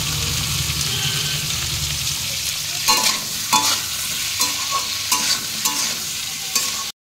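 Drumstick (moringa) curry being stir-fried in a pan with salt, turmeric and ginger, giving a steady close sizzle with a series of spatula stirs and scrapes. No one speaks.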